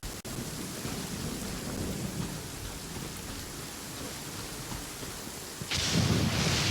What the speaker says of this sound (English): It always rains when I go on an adventure.